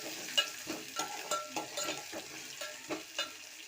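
Vermicelli upma ingredients with onion and green chillies being stirred and fried in a pan, a soft sizzle under repeated light knocks and scrapes of the spoon, near and unhurried with no speech.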